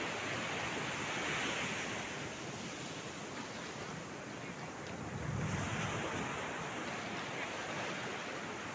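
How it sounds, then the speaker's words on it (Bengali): Steady roaring surf from ocean waves at Laboni Beach, Cox's Bazar, under a cloudy sky, broad and continuous, with wind rushing across the microphone and no voices. "আমার পিছনে সমুদ্রের গর্জন"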